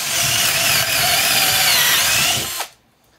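A WORKPRO 12V cordless drill driver whirs loudly and steadily as it bores into thick wood, then winds down and cuts off abruptly near the end, leaving near silence.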